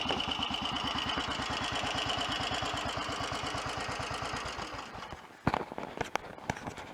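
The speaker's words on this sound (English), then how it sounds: "The engine's very smooth and quiet and obviously clean running" A Royal Enfield 500 Bullet motorcycle engine runs at a steady idle with an even, rapid thumping beat for about five seconds, fairly loud, then fades as a few sharp clicks and knocks follow.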